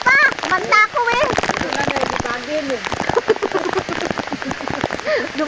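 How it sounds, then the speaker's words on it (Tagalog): Heavy rain pours down outdoors during a fishing trip with a dragon trap net, a dense, continuous patter beneath loud, excited shouting and singing voices close by. "Basang-basa sa ulan! Walang masisilungan!"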